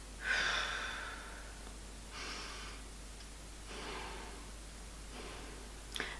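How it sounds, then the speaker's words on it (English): Several slow, deep breaths, alternating inhales and exhales, soft and close with a gentle rushing quality and quiet pauses between them, done during an energy-work demonstration. "So I'm going to inhale"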